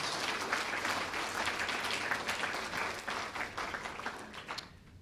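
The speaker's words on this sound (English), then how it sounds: "let's give our panel a big round of applause" A crowd applauding, a dense wash of clapping that holds steady for several seconds, then thins out and stops.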